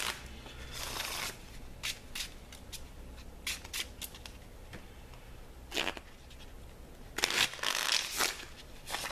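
A deck of playing cards being shuffled by hand during a tabletop miniatures game, several crisp riffling bursts with softer handling rustles and pauses between them, close and moderately loud, no speech.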